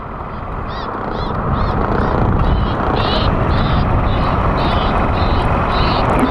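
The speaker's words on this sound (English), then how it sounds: "There is a big sound right here at the airport that they have for the planes and for the birds." An airport bird-scaring device in South Florida blares a steady loud noise with a long series of repeated crow-like caws layered on top, evenly spaced throughout.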